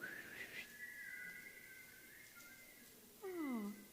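A person whistles a high, sustained birdlike tone imitating a swallow's song, then ends with a quick series of falling chirpy slides, faint and alone.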